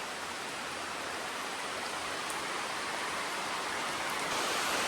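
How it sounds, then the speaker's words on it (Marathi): A loud, continuous roar of heavy rain beside an ancient Konkan temple, a thick unbroken hiss holding steady throughout without voices. "भयानक आवाज येतोय पावसाचा"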